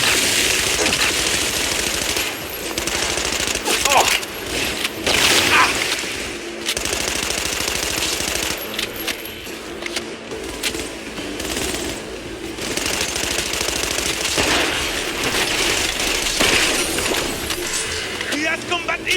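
Rapid automatic gunfire in the futuristic shooter Cyberpunk 2077, dense bursts of shots and fusillades running almost without pause, loud and close, with shouted voices over the firefight.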